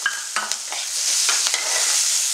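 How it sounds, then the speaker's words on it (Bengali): Nigella seeds, sliced onion and split green chillies hit hot oil in a Bengali kitchen, giving a loud, close sizzle with a few sharp stirring clicks and scrapes and no talking. "এই তেলে কালো জিরাটা দিয়ে দেব, আর সাথে একটু কোচানো পেঁয়াজ, চেরা লঙ্কা এই তেলের মধ্যে দিয়ে দিলাম।"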